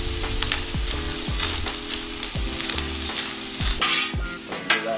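A breakfast skillet sizzles loudly on a 36-inch Blackstone griddle while a utensil stirs and scrapes in repeated strokes, scrapes and clinks punctuating the constant frying hiss.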